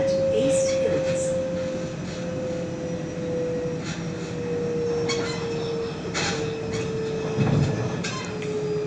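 Sydney T8 line train running toward East Hills, with a steady low rumble, a long electric motor whine and faint rattles, and a brief bump near the end, heard from inside the carriage.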